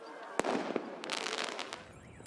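Fireworks thrown by protesters at a government building in Greece during unrest, heard as a sharp nearby bang followed by crackling bursts and scattered pops over a dense noisy street background.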